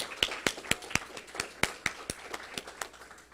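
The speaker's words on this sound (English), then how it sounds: "Please let's give them a round of applause." Scattered audience applause at a Delaware public event on broadband investment, individual sharp claps at an uneven rhythm, fairly faint and distant, no talking over it.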